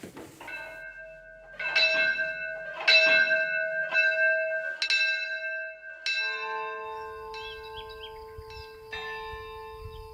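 A bell in Queralbs, a Pyrenees village in Girona, Catalonia, rings out in several loud, resonant strikes, then its tones hang and fade into a lingering hum, with no talking.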